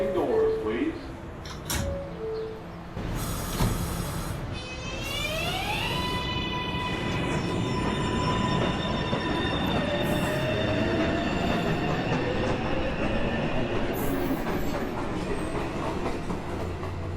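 A Manhattan-bound 1 subway train pulls into the station, its wheels squealing in long high whines over a steady rumble, loud and close, with other station noise around it.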